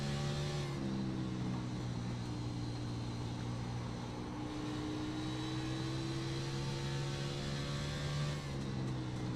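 Stock car engine circling the Bristol short track, driven gently on the throttle out of the corners, a steady droning hum with layered harmonic tones that shift smoothly in pitch across the lap, continuous and fairly near.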